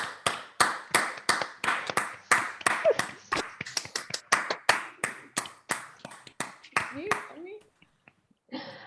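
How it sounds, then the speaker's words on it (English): Members of an online theatre company clap for themselves after a Henry VI Part II performance, a series of sharp, separate handclaps from a few people over a mic, thinning out and stopping near the end. "give yourselves a hearty round of applause"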